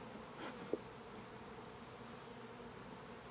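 Honeybees buzz faintly around an open hive during beekeeping work, a soft steady hum with one brief sharper tick early on and no voices.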